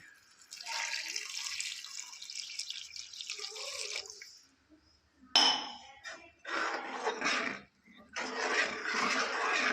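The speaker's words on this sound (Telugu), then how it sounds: "కారం వేసిన తర్వాత రెండు నిమిషాలకి ఒక గ్లాసు నిండా వాటర్ పోసుకుందాం" A full glass of water is poured into mushroom curry in a cooking pot: a close, splashing pour for about four seconds, a brief pause, then two more bursts of pouring and splashing.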